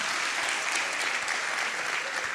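A church congregation at an evening service claps for the Lord in dense, steady applause, a full room of hands clapping loudly and continuously.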